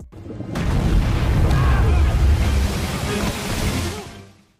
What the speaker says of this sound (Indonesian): Tiba-tiba muncul ledakan.